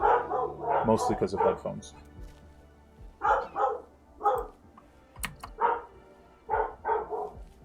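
Several dogs bark nearby in short rapid volleys with pauses between them, while someone talks and keys clatter softly in the background.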